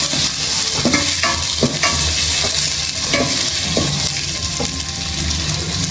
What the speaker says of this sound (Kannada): ಈರುಳ್ಳಿ ಹಾಕಿ, ಈರುಳ್ಳಿ ನೀಟಾಗಿ ಫ್ರೈ ಮಾಡ್ಕೊಳ್ಳಿ. Full golden brown ಬರೋವರೆಗೆ.